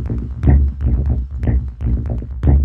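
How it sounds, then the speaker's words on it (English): A short-decay sine bass line from Ableton Live 9 Suite, shaped with EQ, delay, compression and sidechaining, pulses in a steady, punchy rhythm of deep low notes inside a dense electronic mix. "It's that one, short decay one sine bass."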